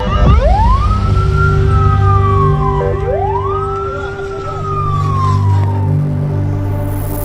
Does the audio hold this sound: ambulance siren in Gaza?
yes